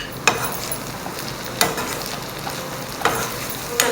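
Vegetables fry in a pan with chilli powder and coriander powder under a steady sizzling hiss, with three sharp spoon-against-pan knocks from stirring spaced about 1.4 seconds apart, close and without talk.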